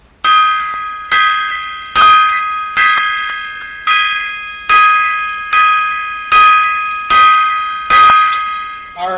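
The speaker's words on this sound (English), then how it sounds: "there's your 10 gong salute to the legends" A gong or bell-like metal tone struck ten times as a salute, each hit ringing out loud and close with a bright shimmering decay, evenly spaced about one second apart with no talk over it.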